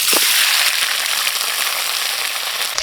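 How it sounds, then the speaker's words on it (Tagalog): Pork leg (pata) frying in a small amount of oil, a steady close-up crackle and sizzle holding loud and even throughout, with no voices. "Piprituhin na natin yung ating pata."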